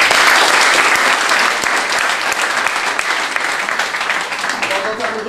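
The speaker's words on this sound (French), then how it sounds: "applaudissements pour Marie-Lynn." Studio audience applauding Marie-Lynn at the start of her media segment on a French talk show, a dense, steady wash of clapping sustained throughout at close range.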